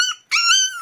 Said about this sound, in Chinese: 这个小狗别怕哈，快好了